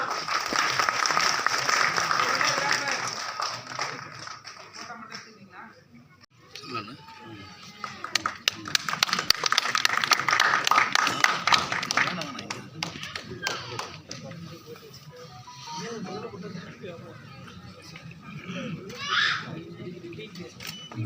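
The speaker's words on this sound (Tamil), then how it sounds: "நல்ல ஒரு கரகோஷம் கொடுக்கலாம்" Scattered clapping and tapping from guests at a Tamil film launch ceremony held with a pooja at a studio, uneven and moderately loud, rising and fading in bursts with talk and murmuring mixed in.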